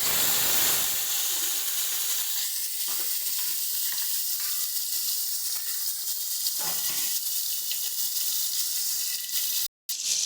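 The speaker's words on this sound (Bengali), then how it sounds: "তেল আমাদের গরম হয়ে গেছে, দিয়ে দিচ্ছি এবারে ফোড়নে কালো জিরে দিয়ে দেব" Nigella seeds and spices hit hot oil with a loud, continuous sizzle and crackle, heard close and alone, with a brief cut near the end.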